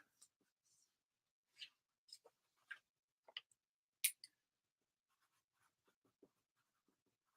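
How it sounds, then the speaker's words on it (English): Writing a note on a small strip of masking tape: faint, scattered scratchy pen strokes in short bursts separated by quiet gaps, close and soft, with no talking. "I'm going to write a note on a piece of masking tape real quick"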